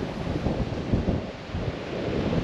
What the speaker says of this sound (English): Very, very windy though.